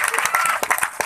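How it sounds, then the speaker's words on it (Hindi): Applause from a poetry recital audience at a kavi sammelan, a short burst of dense, steady clapping filling the whole moment. "एक बार जोरदार तालियां हम पवार जी के लिए बजाते हैं।"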